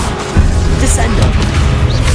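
In Hogwarts Legacy, a Descendo spell slams an enemy to the ground with a heavy thud and crash. The impact lands about a third of a second in, inside a steady roar of close combat noise.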